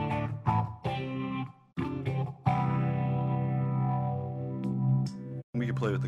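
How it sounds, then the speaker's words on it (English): A BC Rich Bich Perfect Ten electric guitar with its tone knob turned fully down plays dark, muffled distorted notes and a long sustained chord through effects, with brief pauses and no talking. "This is all the way off."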